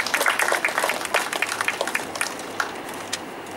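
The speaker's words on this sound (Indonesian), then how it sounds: "mari kita tepuk tangan semua untuk para murid yang akan tampil" Applause from a school concert audience cheering the students about to perform, brisk clapping at first that thins and fades toward the end.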